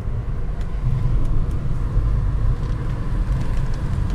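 A Mercedes C230 Kompressor climbs South Mountain near Gilbert, Arizona, its engine a steady low rumble with road noise, close and continuous, no talking.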